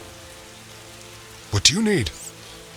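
Steady rain falling in The Witcher video game, a constant soft hiss running under a brief spoken line.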